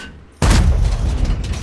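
A VK 100.01 (P) tank gun fires a blind shot in World of Tanks: one sudden, loud, booming blast that cuts in after a quiet moment and rumbles on with a heavy, sustained tail.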